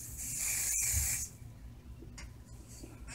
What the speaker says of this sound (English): then grab some hairspray